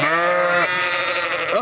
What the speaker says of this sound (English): the sheep love me